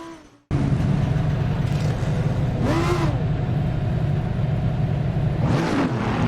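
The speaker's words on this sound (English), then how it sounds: "now we've got 10 minutes in the brand new Lamborghini GT3 Huracan EVO 2. And I gotta say guys, just listen to that engine" Lamborghini Huracan GT3 EVO 2 race car engine in Assetto Corsa Competizione at Valencia, a loud sustained droning roar that rises sharply through two high revving upshift sweeps.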